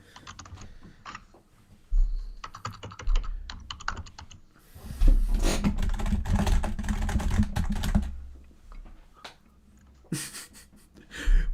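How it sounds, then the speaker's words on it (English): Rapid clattering typing on a computer keyboard, close and continuous in bursts, with a dense flurry of keystrokes in the middle and pauses between runs. "Why are you typing so much"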